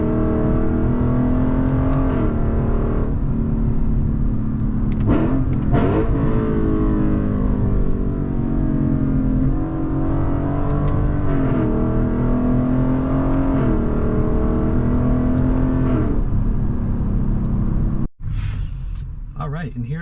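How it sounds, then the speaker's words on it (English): Lexus LC 500 V8 engine revving continuously through a series of slow downshifts, loud and close, the pitch rising and falling with each rev blip, with a sharp drop near the end. "Here's some downshifts for you. And some more slow shifts."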